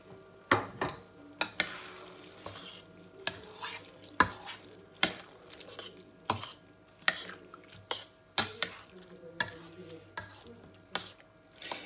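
A pumpkin risotto simmers with added broth in a pot, a quiet bubbling bed punctuated by a dozen sharp, irregular scrapes and clacks of a spoon stirring against the pan, close by and without speech.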